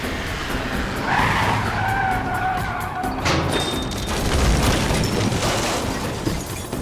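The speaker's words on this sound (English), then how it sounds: "They need enough speed to get up the incline, but go too fast, and the wheels will lose traction in the loose soil." Vehicle wheels spin and skid in loose soil on a steep incline while hauling a house, a continuous loud scraping roar with grinding engine noise that swells and shifts partway through.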